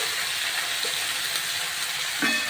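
Ridge gourd, pumpkin and drumstick vegetables stir-fry in a pan for a plain mixed-veg dish, giving a steady close hiss and sizzle with a brief scrape of stirring near the end.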